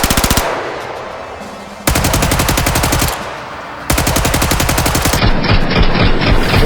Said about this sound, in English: So the most exciting gun for me to capture is probably the Thompson.